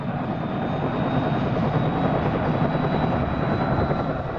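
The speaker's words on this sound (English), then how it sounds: "to evaluate and learn about the Ontario Provincial Police helicopters" An Ontario Provincial Police helicopter drones steadily nearby, its rotor chopping in a fast, even pulse over a loud engine whine, with no voices.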